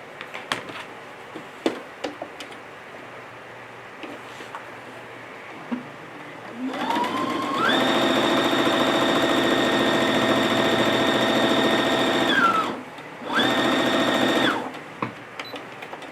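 A sewing machine top stitching a large zippered tote bag at 2.5 stitch length, humming steadily in one long close run of several seconds, a brief stop, then a shorter second burst, with faint handling clicks around it.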